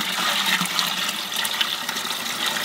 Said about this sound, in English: Just taking some water from the pond. Dump it inside of the big live well so they get acclimated to the temperature in the pond.